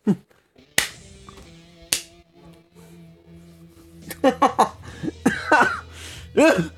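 A single sharp cough at the start, followed by a few loud clicks and hums, then someone speaking in bursts near the end.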